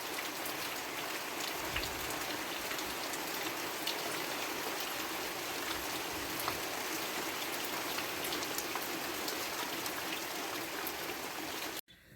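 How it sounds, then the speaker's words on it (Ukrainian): Steady rain pouring down on a village yard, a dense even hiss of drops hitting the ground and surfaces close by, unbroken for the whole stretch before cutting off abruptly. "Гарний дощик, гарний."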